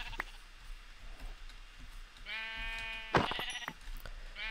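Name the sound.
sheep bleating in the video game Minecraft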